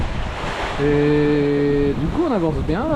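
Strong wind of 26 to 27 knots and waves rush steadily past a sailboat crossing the Atlantic from Tenerife to Martinique in a squall, a loud, constant roar of wind and water under someone speaking French.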